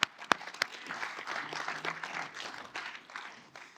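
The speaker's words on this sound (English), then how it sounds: "Y'all clap that." An audience in a recovery or support gathering breaks into sustained applause, beginning with a few sharp isolated claps and swelling into a dense, steady wash of clapping that fills the room for several seconds.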